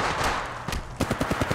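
Rapid gunfire in Apex Legends Mobile, a short burst of sharp, evenly spaced shots starting after a brief rush of noise, loud and close.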